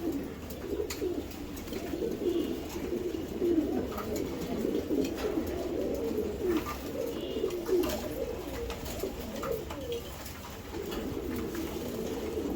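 A pair of club racing pigeons, a hen and a cock, keep up overlapping guttural cooing nearby, a steady, rolling murmur lasting throughout without speech.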